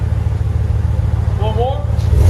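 A 2020 Dodge Ram 5.7L with a Flowmaster Super 10 dual exhaust rumbles close by in a steady, deep drone, with a brief voice over the engine partway through.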